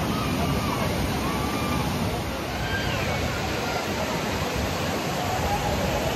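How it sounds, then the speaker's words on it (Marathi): A fast-flowing, rain-swollen monsoon stream rushes over the Kas plateau near Satara, making a loud, steady, unbroken roar of water close at hand. "पाण्याला गतीसुद्धा जास्त आहे. प्रवाहाचं वेग वाढलेला आहे."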